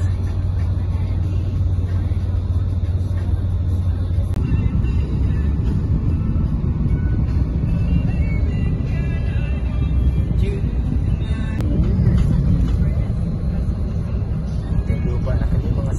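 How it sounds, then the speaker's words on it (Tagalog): Road traffic at night, a continuous broad rumble of car and bus engines passing nearby, steady and dense throughout with a low hum at the start. "Maraming traffic guys."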